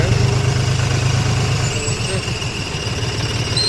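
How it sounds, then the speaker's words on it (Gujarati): A farm tractor's diesel engine idles nearby after pulling in at a farm, a steady low rumble with a thumping pulse that holds even and loud without a break. "ટ્રેક્ટર આવી ગયું છે।"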